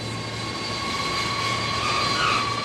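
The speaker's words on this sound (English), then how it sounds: "One of which is the C-17 Globemaster, the RAF's biggest and fastest long-range cargo aircraft." A C-17 Globemaster heavy cargo aircraft at RAF Brize Norton, a steady loud jet roar with sustained high engine whine, close and unbroken.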